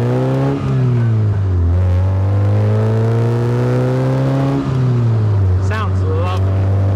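An MX5-based kit car drives close by, its engine note rising and falling through gear changes, smooth and fairly quiet, while voices talk over it.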